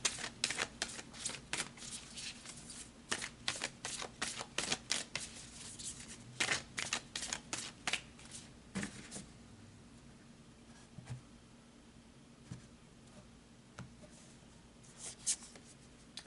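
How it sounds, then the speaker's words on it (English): Tarot cards being shuffled and pulled, close and quiet: a dense run of crisp card riffles and flicks that thins into scattered light taps and slides, with a faint steady hum beneath. "so let's pull some tarot"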